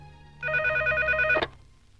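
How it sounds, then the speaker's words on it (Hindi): An electronic telephone ring trills once on an outgoing call, a loud, close burst of warbling tones lasting about a second before cutting off, alone without voices. "रिंग हो रही है।"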